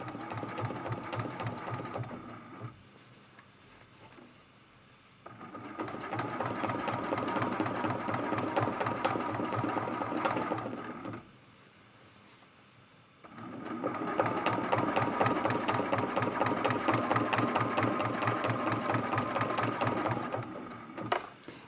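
A sewing machine doing free-motion quilting on an art quilt, with fast, even needle stitching in long runs and short quiet pauses between bursts, heard close and fairly soft.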